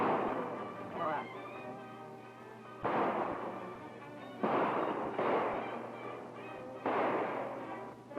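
Gunfire from a 1935 western film shootout: several heavy, booming shots spaced a second or more apart, each with a long rumbling tail, loud and close in an old, muffled recording.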